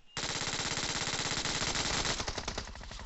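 Rapid automatic gunfire from the BGMI battle royale game, a fight at apartments in Pochinki, a loud continuous burst of fast shots lasting about three seconds with no talking.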